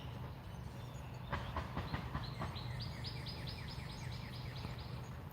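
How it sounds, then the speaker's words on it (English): Many baby birds chirp outdoors in a garden, a rapid repeating series of high, thin calls building into a steady run, moderately close over a low background rumble. "Y'all hear all them birds? We have so many baby birds."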